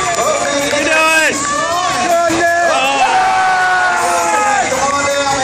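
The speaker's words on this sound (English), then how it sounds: "Cheer them on." A live audience at a Fear Factor Live stunt show cheers and whoops for contestants, a loud, sustained mass of voices with rising shouts and yells throughout.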